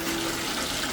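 Water rushes steadily as a FLUENTPOWER 1/2 HP submersible sump pump runs, a close, constant watery hiss with a faint motor hum, no talking.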